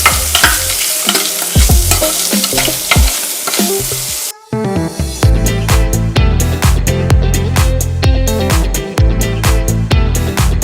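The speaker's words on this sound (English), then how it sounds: "fry it all together until the anchovies and nuts are fully coated with the sauce" Anchovies and nuts fry in a spice paste, with loud, continuous sizzling and repeated scraping stirs of a utensil against the pan. A brief pause comes midway, and the sizzle stays close and dense throughout.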